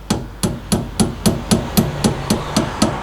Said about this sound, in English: Hopefully we should be able to just push this this split pin back in